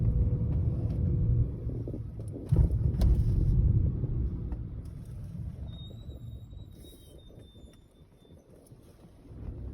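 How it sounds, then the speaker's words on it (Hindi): A vehicle drives along a road cut through dense forest in Jim Corbett National Park. Its steady low engine rumble and wind buffeting are loudest early on, then ease off, with a faint high whine partway through and no talking. "अभी सामने से गाड़ी आ गई तो बैलेंस करके निकली।"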